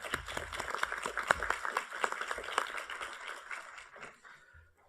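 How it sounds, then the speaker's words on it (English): A committee meeting audience claps for award recipients, a brisk burst of many hands that holds for a few seconds and then tapers off. "Should we give a round of applause?"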